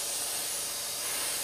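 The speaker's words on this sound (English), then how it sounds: "all we're going to do is spray this spine black" An airbrush sprays black acrylic paint onto the spine of a 1/48 Airfix EE Lightning model aircraft, a steady close hiss lasting the whole moment.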